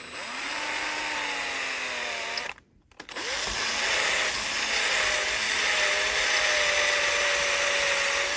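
A power drill whines steadily at high speed while drilling into a diecast Chevy Bel Air lowrider model car, cuts out briefly, then spins up again and keeps running loud and close.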